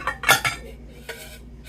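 A metal tart pan and other kitchenware handled while sorting through household items, giving a few brief clanks and clatters close by, loudest early on and then a softer knock.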